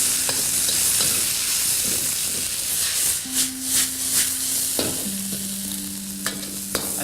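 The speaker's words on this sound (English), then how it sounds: "You need to fry quite quickly so that they remain bright green and come out tender and delicious." Greens stir-fried over high heat in a hot wok with Chinese cooking wine, a loud continuous sizzle and hiss with scraping stirs and occasional clanks, close and steady.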